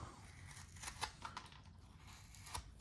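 Crisp, close-up cutting and shaving sounds from a hand gouge clearing wood on a carved cowboy bust, in quiet strokes that come at irregular intervals.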